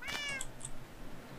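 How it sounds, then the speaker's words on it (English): A cat in the video game Minecraft gives one short, clear meow near the start, followed by a couple of faint high chirps over a quiet background. "I heard a kitty cat."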